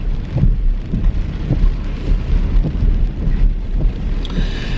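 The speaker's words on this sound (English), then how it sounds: "It's been raining for hours." Heavy rain pours steadily, a dense continuous wash of drops drumming on surfaces, with low rumbling underneath and no voices.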